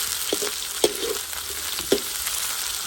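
Fish sautés in a frying pan with a steady close sizzle, while a utensil scrapes and taps the pan a few times.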